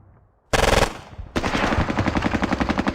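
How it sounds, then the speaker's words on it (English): Gunfire in the military video game Squad: after a brief quiet moment, a loud burst of shots erupts, pauses, then gives way to sustained rapid automatic fire that keeps hammering close by. "Wow, that's a lot of firepower and grenades or whatever they're using on us."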